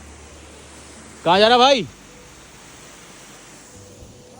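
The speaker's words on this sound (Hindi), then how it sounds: "इसमें गैप है, तो वो नीचे से पानी निकल रहा है।" Water pours steadily out from a gap underneath, near Mana Village by Badrinath in heavy rain, a loud, constant rushing that fills the scene while a voice briefly calls out over it.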